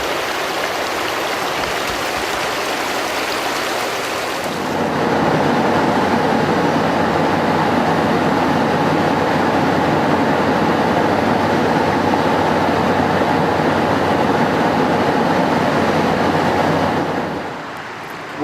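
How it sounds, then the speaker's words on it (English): Treated effluent pours from the Salt Creek Sanitary District sewage treatment plant into the creek, a loud, steady broadband rush of discharging water that starts abruptly, holds constant for over ten seconds, then fades at the end. "we can see we have some effluent that's currently leaving the plant right now"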